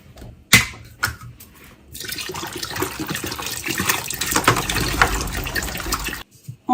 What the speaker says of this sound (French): On verse l'eau.